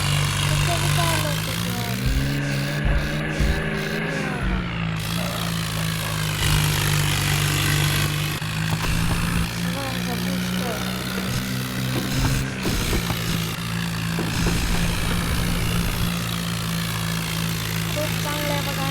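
A powerful tractor engine in a 3D Indian vehicle driving game drones steadily and loud throughout, with a constant low hum and faint rattling layered over it.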